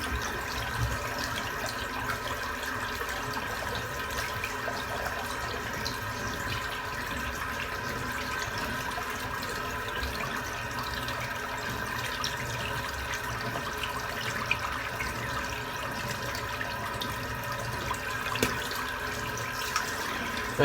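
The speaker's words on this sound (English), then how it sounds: "to wait for some cold water coming through" A tap runs water into a bathroom sink in a continuous, even rushing splash that stays steady and close for the full stretch, with no talking.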